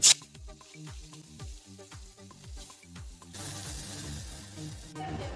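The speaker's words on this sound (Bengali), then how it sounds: "তেলটা ভালো করে গরম হয়ে গেছে। এবার মাছগুলো এক এক করে ছেড়ে দিচ্ছি।" Tilapia pieces sizzling in hot mustard oil in a pan, a continuous crackling fry that swells louder toward the end, with a sharp clink at the start.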